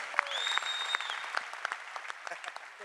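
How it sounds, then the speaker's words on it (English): An auditorium audience at a UFC question-and-answer event applauds a champion with brief, moderately loud clapping that tapers off, with scattered individual claps and a few voices mixed in. "Little round of applause for our champ here"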